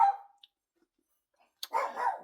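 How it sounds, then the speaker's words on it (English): A dog barks a few times in the background, with a single bark at the start and a louder burst near the end, separated by near silence. "sorry, dog's barking there."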